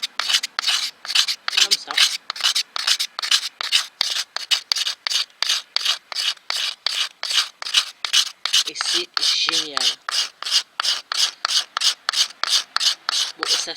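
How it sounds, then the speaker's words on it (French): Steady rhythmic rasping of a rounded saw-blade scraper drawn across wood, dozens of quick even strokes, close up, with a brief spoken remark partway through. "je vais donner la forme arrondie à cette lame de scie. Et donc, je m'en sers comme grattoir"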